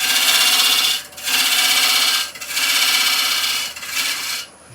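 Wood cut on a lathe while turning a pestle and mortar, a loud, continuous rasping scrape in four long passes broken by brief pauses.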